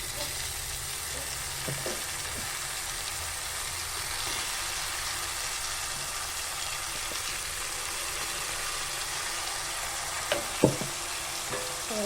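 Ground mint paste sautés in a pan for a Tamil home-style dish, giving a constant close, even hissing sizzle throughout, with a few faint utensil taps near the end and no voices.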